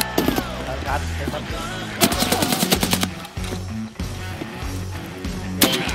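Gunfire crackles through a firefight in the shooter game Escape From Tarkov: sharp, loud bursts near the start, a dense rattling volley around two seconds and another burst near the end, with low rumbling game sound between.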